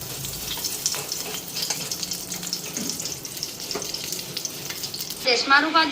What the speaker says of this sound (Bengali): আর রুটিটা ভেজে নিই